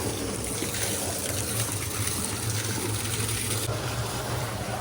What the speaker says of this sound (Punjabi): ਇੱਥੇ ਮਾਰ ਪਾਣੀ